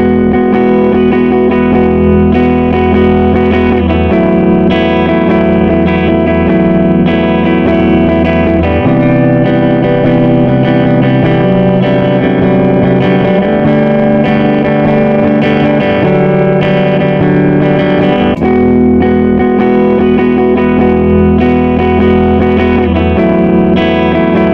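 An electric guitar played through a Harley Benton Tube 15 valve amp rings out loud and continuous with distortion and effects, sustained chords changing every few seconds, with no talking throughout.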